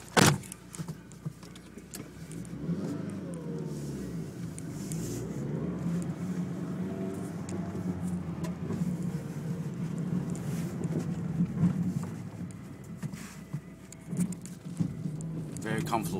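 A white Mitsubishi Lancer GSR Evo 5 with a big muffler, heard from inside while driving, gives an engine drone that rises and falls over a layer of wind noise.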